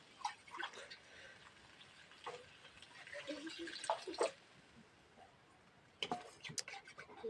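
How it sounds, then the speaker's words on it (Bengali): Water is poured into a pot of chicken bhuna, giving soft, uneven splashes and trickles in bursts, with a few sharper clinks near the end and a faint voice in the background. "হালকা করে একটু পানি দিয়ে দিব।"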